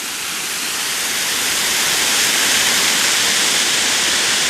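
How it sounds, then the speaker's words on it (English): Steady, loud rush of a waterfall on Prairie Creek at Big Woods State Park near Nerstrand, Minnesota, heard from above the falls, flowing over limestone; a constant broadband roar with no voices. "Here's a different perspective of the falls from up above."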